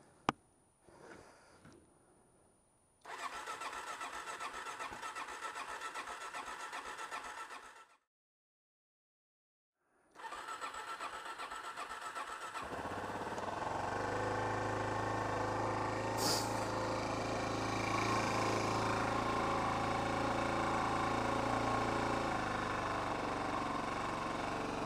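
An old car with the choke pulled out cranks over, then its engine catches and settles into a steady, loud idle that runs on close by, with a brief gap of silence before it fires.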